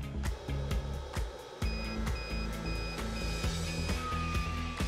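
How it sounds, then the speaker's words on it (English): Repeated electronic beeps in a steady on-off pattern from a Miller powered air-purifying respirator's low-airflow alarm, with the breathing tube blocked, over a continuous low blower hum and a loud rhythmic thumping vibration. "Block the airflow by placing your hand over the breathing tube until the alarm sounds and the blower vibrates."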